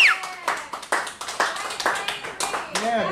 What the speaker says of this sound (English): So give yourselves a hand for coming out tonight.